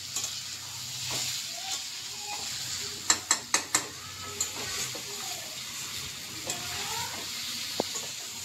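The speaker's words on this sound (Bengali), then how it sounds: "সে আমি মশলা ভাজছি, ওই জন্য দেখাই নেই তোমাকে।" Spices fry in a pan for a Bengali fish curry, a steady low sizzle with stirring scrapes and a quick run of sharp utensil clicks near the middle.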